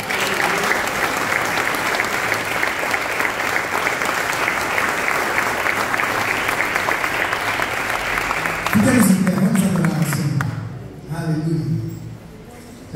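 A church congregation applauds during a year-end thanksgiving service, with loud, dense clapping sustained for about nine seconds before it breaks off and a voice speaks over the fading room.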